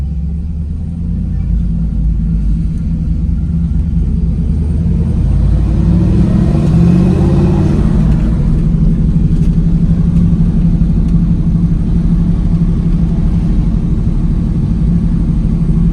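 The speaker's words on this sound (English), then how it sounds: "Beautiful day for driving the old Camaro." An old Chevrolet Camaro cruises through a small town, its engine a steady, close, loud rumble with constant road noise that swells briefly midway as it accelerates.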